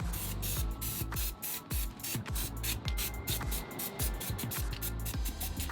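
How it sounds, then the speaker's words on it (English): Spray paint can hissing onto water for hydro dipping, loud broad hissing bursts repeated in quick pulses with brief gaps, close to the microphone. "let's spray paint the water again"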